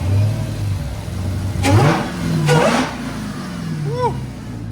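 A Chrysler 300 swapped with a Hellcat Redeye engine, fitted with headers and a muffler delete, revs its exhaust in repeated loud bursts over a rumbling idle.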